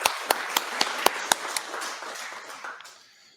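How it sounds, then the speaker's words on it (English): Scattered audience applause after a conference talk: a few sharp, distinct claps at a steady rhythm, then a brief smattering that fades to quiet. "Another round of applause."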